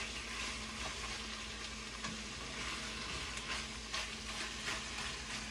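Beef steak browning in a pan for bistec entomatado, a steady, faint sizzle with light crackles and occasional soft stirring taps, no voices.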